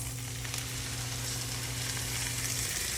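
Corn, zucchini and scallion whites cooking with Southwest spice blend in a pan, making a steady, close sizzle with a soft constant hiss and no talking.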